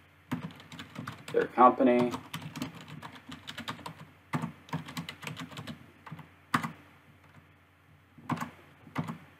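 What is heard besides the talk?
typing contact details on a computer keyboard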